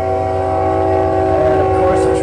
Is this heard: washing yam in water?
no